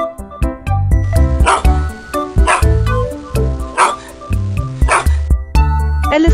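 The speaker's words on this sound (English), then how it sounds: "Dog." A dog barks in a quick series of sharp yips and bow-wows, loud and close, over steady background music in a children's animal-sounds compilation.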